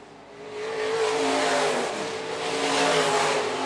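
Sport mod race cars roar around a dirt track at Phillips County Raceway, engines revving loud and steady with rising and falling pitch as they sweep past, alone without talk.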